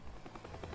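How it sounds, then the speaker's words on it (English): Helicopter hovering in the video game Teardown, a faint, low rotor thrum with soft rhythmic pulsing, heard briefly on its own. "I want the helicopter to hover around here."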